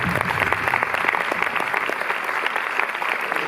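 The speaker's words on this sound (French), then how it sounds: "on peut l'applaudir" A cinema audience at a film presentation at UGC Les Halles in Paris claps steadily, dense close applause sustained throughout without speech.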